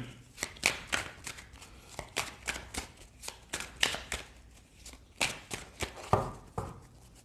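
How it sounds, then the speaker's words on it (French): Tarot or oracle cards handled close up, with a rapid irregular series of crisp flicks, slaps and shuffling riffles throughout, fairly quiet and with no speech. "Je vais enlever juste ces cartes."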